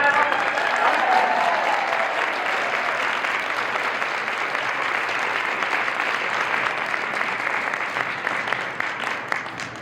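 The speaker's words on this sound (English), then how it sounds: "Give her a clap" An audience claps warmly for a speaker at an equestrian riding lecture, a dense, sustained burst of applause from a sizable crowd that holds steady and slowly tapers off.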